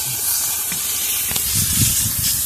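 Water poured into a hot pan of sonabain sea-fish curry cooking on a boat hisses and sizzles steadily at close range, a broad continuous steam hiss with small bubbling bursts, no voices.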